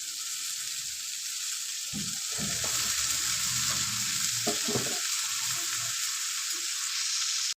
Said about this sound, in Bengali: আমি মিশিয়ে দেবো, মশলার সঙ্গে লতিটা মিশিয়ে নেব।